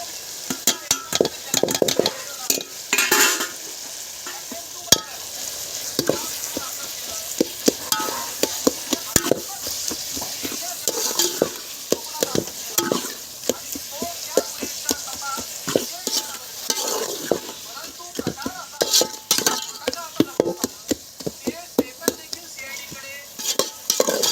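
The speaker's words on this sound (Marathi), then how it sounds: "आता कढीपत्ता अद्रक लसूणची पेस्ट आणि मिरची हे टाकतात" Curry leaves, ginger-garlic paste and green chillies frying in a pan over a wood-fired clay stove for chicken biryani, with a loud, continuous sizzle broken by frequent scraping stirs and clinks of a spoon against the pan.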